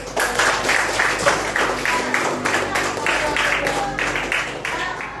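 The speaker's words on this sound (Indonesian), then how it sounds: "Nah, tepuk tangan semua untuk anak-anak." A school class applauding for children, a dense burst of clapping from many hands that runs steadily through the clip at close range.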